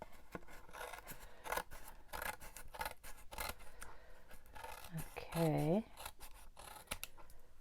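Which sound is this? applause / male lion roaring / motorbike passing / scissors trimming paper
scissors trimming paper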